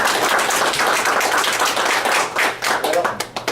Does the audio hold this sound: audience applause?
yes